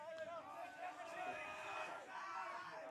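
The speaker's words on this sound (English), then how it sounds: "Crowd now getting rowdy." Crowd at a men's softball grand final getting rowdy, a dense mix of cheering, shouting and whooping spread across the stands, steady and moderately loud throughout.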